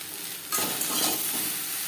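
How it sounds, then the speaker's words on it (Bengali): Ridge gourd and pointed gourd stir-fried with onion and chili over high flame, a steady close sizzle that jumps louder as the vegetables are tossed and stirred in the pan. "পেঁয়াজ ও লঙ্কার সাথে ঝিঙে পটল বেশ ভালো করে মিক্স করে হাই ফ্লেমে তিন চার মিনিট"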